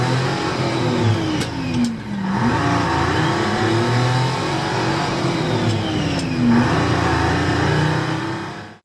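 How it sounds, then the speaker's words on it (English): An old Hinomoto tractor, rebranded as a Southern, cranks and catches, its engine revving up and settling into a steady mid-pitched run with wavering speed, loud and close, with a couple of sharp clicks early on. "let's see if the Hinomoto Tractor will start"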